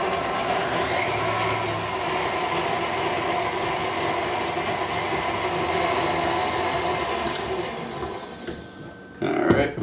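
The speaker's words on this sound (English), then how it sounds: "whisk together all of those dry ingredients in my mixer" A stand mixer whisks flour, salt and other dry ingredients for an organic pizza crust with a steady, close whirring hum that runs unbroken and then stops near the end, followed by a brief clatter.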